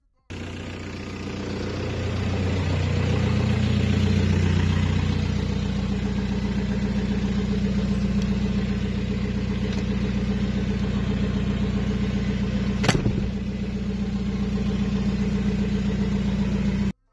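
Steady idle of a Volkswagen Golf 4 TDI 115 hp diesel with six-speed gearbox, a close, even mid-low drone that swells slightly early on, with one brief sharp click partway through.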